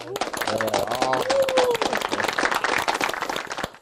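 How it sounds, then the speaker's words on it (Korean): Several people clap together in a quick, dense patter, with voices calling out over the applause. "우리 한번 같이 박수 한번 해볼까요?"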